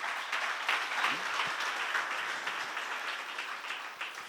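A seminar audience in a church setting claps together in a steady, even patter that carries on for several seconds at moderate volume, with a faint voice briefly underneath.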